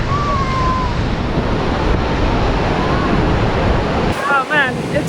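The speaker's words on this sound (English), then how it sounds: "just the power of the waterfall and the spray is hitting me in the face" A loud, constant roar of a waterfall with spray fills the air, with wind buffeting the microphone close by.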